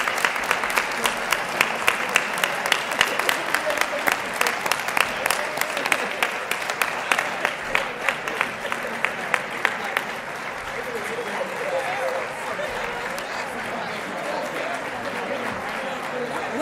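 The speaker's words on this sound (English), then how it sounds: "let's have a round of applause for our winners" Sustained applause from a large crowd at an awards presentation, clapping strongly at first and gradually thinning and softening toward the end.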